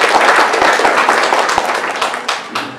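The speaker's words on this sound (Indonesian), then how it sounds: "Tepuk tangan untuk Tuhan Yesus untuk ibu-ibu" A congregation at a church worship service claps loudly, with rapid sharp hand claps forming a dense burst that thins out toward the end.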